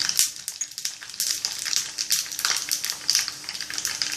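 Mustard seeds, pepper and cumin frying in hot ghee, a steady bright crackling sizzle with scattered pops throughout, fairly close and without talk.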